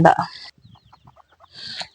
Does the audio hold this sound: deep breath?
no